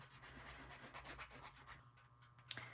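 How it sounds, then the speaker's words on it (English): A quiet, steady rubbing and rasping as a small nail file scrapes back and forth over firm polymer clay, with a brief sharper scrape near the end. "do a quick little sand in between. And you just need a nail file for this"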